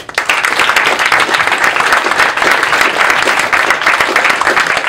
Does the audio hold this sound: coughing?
no